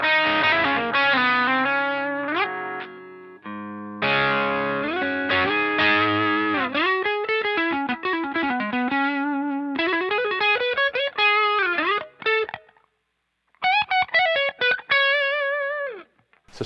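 Electric guitar played through a DOD/Digitech distortion pedal at heavy gain, sustained chords and bends ringing out in loose phrases with brief pauses, loud and alone.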